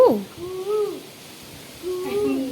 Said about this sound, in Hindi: वही कोयल बुला रही है।